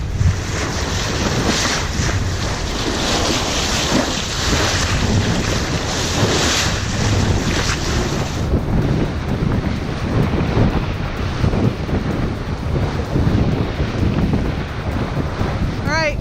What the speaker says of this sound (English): 20 to 30 knot winds today.